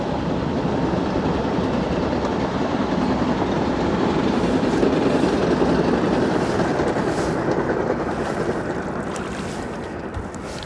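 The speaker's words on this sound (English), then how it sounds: "Oh, we got a nice train coming by." A train rolls past along the Hudson River on a warm winter day, a steady broadband rumble and rattle holding near-constant loudness throughout, with wind and water in the background and no talking.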